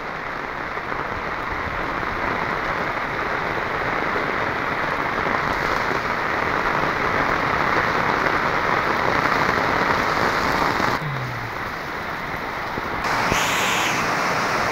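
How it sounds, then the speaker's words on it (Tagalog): Heavy rain pouring steadily during a flood, a dense continuous hiss of drops on surfaces that stays loud throughout, with a brief shift in texture near the end and no voices. "Hindi pa tumitila yung ulan."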